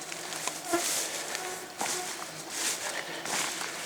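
Constant mosquito buzzing fills the air over a dark swamp, a thin high whine with several louder passes close by, alone without talk.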